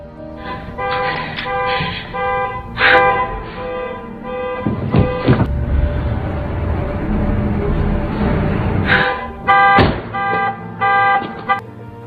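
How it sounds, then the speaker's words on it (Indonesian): A car alarm going off in a film scene, a repeating electronic wail cycling through pulsed tones with a dense noisy burst midway, loud and without talk. "Emma pun hampir ketahuan oleh Bobby dan membunyikan alarm mobil itu"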